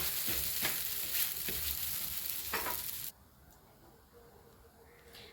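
Dosa batter cooking on a hot pan, a loud crackling sizzle with a few sharp scraping bursts that drops suddenly to a quiet low hiss partway through.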